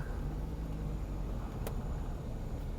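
A car idles with a low, steady engine rumble as it creeps through a parallel-parking manoeuvre while the steering is turned, with no voices over the hum.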